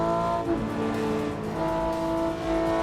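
Racing car engine from Assetto Corsa or BeamNG, heard through a real car interior, holds a steady loud harmonic drone with shifting revs throughout, no talk.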